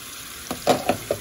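Sausage and vegetables sizzle in a pan at a steady low hiss, with a few short scraping stirs near the end.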